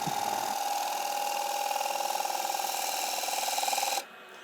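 A woodturning gouge cuts a spinning blank on a lathe, giving a loud, steady tonal hum with a rapid pulsing texture that cuts off sharply near the end, leaving a quieter hum.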